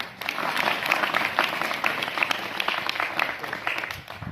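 Girl students applauding in a school hall at an inter college in Meerut, dense continuous clapping from a large group close by, steady for several seconds before tapering off at the end.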